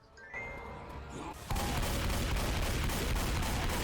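Rapid gunfire erupts in a Left 4 Dead 2 custom campaign, with a quieter buildup giving way after about a second and a half to dense, continuous bursts of shots and booms, loud and sustained with no clear talk.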